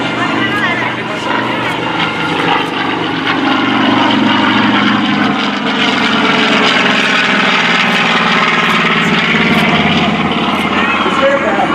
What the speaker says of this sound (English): Listen to this, the TBM torpedo bomber.